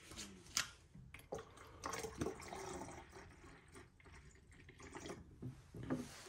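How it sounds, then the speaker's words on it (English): Liquid cleaning formula is poured into the tank of a Bissell SpotClean ProHeat portable carpet cleaner, giving quiet gurgles and splashes with a few clicks and knocks of handling in a quiet room. "So we filled up the formula."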